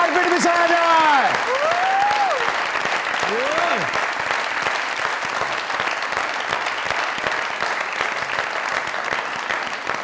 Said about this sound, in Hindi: जोरदार तालियां लिविंग लेजेंड के लिए।